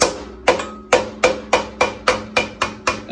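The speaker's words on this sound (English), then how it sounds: "Again, using the biggest hammer possible." Nine sharp metallic hammer strikes in a steady rhythm, tapping a bearing dust cap into place on a 1968 Pontiac Firebird during a disc brake install, each ringing briefly before the next, loud and close.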